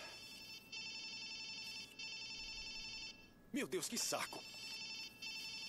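A phone hacked in Watch Dogs 2 rings in repeated electronic bursts with short pauses, fairly close, while a man mutters a complaint midway through the ringing.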